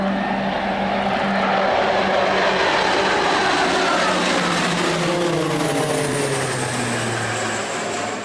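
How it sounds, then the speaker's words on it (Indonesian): Seven Jupiter Aerobatic Team planes rehearse over the Mandalika MotoGP circuit, their engines a loud, continuous roar that slowly falls in pitch as they sweep past overhead, with no voices. "7 pesawat Jupiter Aerobatic Team menggelar latihan terakhir jelang perhelatan Akbar MotoGP Mandalika 2022"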